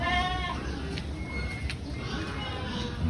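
Goats bleat in their pen, a harmonic call near the start followed by fainter bleats over steady background noise.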